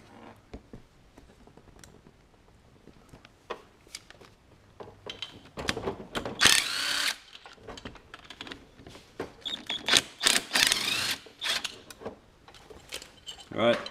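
Tools work loose the side bolts on a scooter big bore cylinder head, giving scattered metallic clicks and ratcheting bursts of moderate loudness near the microphone, with a person talking in between.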